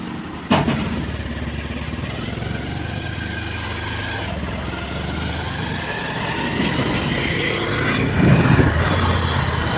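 A motorcycle engine runs steadily at low revs, then the throttle opens and the note rises slightly as the clutch is let out, moderately close with a sharp click near the start and no talking.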